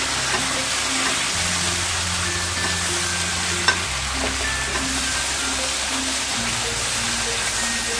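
Pieces of butter chicken tikka sizzle loudly and steadily in a frying pan as they are turned over one by one, with a light scrape of the utensil partway through and no voices.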